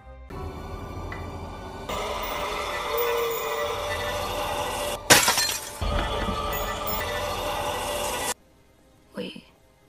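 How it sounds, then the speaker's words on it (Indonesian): A wall clock bursts apart in a sudden sharp glass-like crash, ringing briefly over a continuous rumbling, rattling background, with narration in the story nearby. "Jam dinding di ruangan itu pecah"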